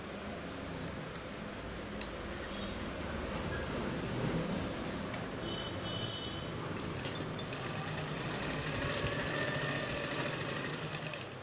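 A sewing machine runs in a steady, close whirring rattle while stitching a pocket seam on palazzo pants, continuing without pause.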